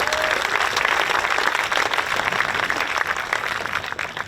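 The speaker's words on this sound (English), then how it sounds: "Yes, good clap." An audience claps during a mayor's annual policy address in San Francisco. The applause is loud, close and sustained, a thick wash of hand claps that tapers slightly near the end, with no voices heard.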